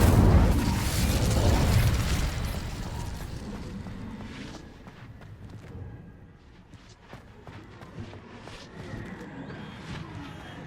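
The Incendio fire spell is cast in Hogwarts Legacy on Hard difficulty, a loud fiery whoosh-burst up front that fades into crackling, clicking debris and a low lingering rumble.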